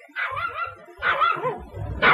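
A small dog barks in three short, close yips, loud and sharp with whimpery tones between them.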